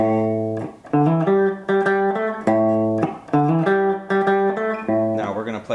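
Blues backing track from a song: a rhythmic guitar chord figure repeating in short, evenly spaced stabs with a bass line underneath, loud and close with no talking.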